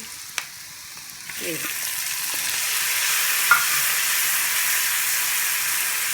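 Ingredients sautéing in plenty of oil give a steady, broad sizzle that builds after the first second and holds, with a few faint utensil taps early on and one small clink midway.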